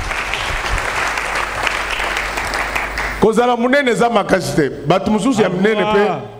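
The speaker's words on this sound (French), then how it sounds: "Acclamons très fort pour le Seigneur." A church congregation at a sermon applauds loudly for the Lord, with dense, sustained clapping for about three seconds before it cuts off and a voice speaks.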